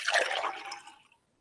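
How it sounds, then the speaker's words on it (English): Clear liquid is poured into a glass tube in a splashy, trickling rush that tapers off over about a second and then falls silent. "She slowly pours a clear and blue liquid into a glass tube that feeds down to the"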